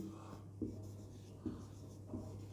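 Pen writing on a board or paper during an English grammar lesson on narration of yes/no questions, heard as three faint scratchy strokes at a quiet level, with no talking.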